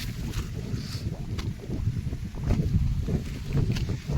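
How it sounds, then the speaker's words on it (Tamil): Strong wind gusts over a maize field, roaring in uneven surges with rustling and buffeting close to the microphone, no speech. "இப்போது இவ்வளோ காற்று அடிக்குது"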